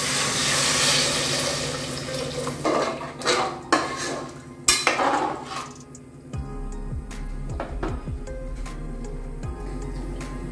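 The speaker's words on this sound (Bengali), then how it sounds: "এবার এতে দিয়ে দিলাম জল।" Water is poured into cooked rajma masala in a pressure cooker, with clattering pot and utensil knocks and a pouring, splashing rush near the middle, followed by a low continuous hum and a few clinks.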